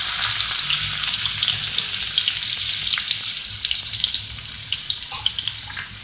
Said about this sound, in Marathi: आता आपलं तेल चांगलं तापलेलं आहे. आपण ह्याच्यामध्ये सर्वात प्रथम कांदा टाकूया.